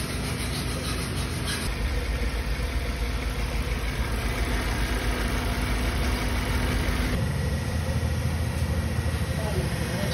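An overheating Suzuki APV, its thermostat removed and head gasket suspected, idles with the radiator fan motor running, a constant close whirring rush over a low engine hum that shifts tone twice.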